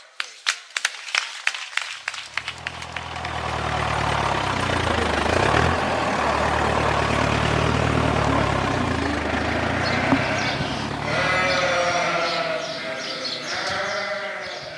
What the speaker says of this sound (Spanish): Sí, sí, son ovejas lo que estás escuchando.